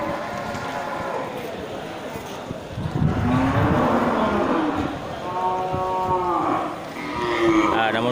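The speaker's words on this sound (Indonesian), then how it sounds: "Ini terlihat banyak sapi indukan ya dari jenis sapi Aceh." Aceh breed cattle at a busy cattle market give several long, drawn-out moos, one after another and fairly close, over a murmur of crowd noise.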